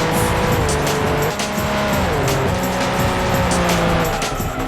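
TVR Speed 12 race car in a PlayStation 1 racing game, a loud continuous engine roar shifting in pitch through gear changes, with tire squeal over it.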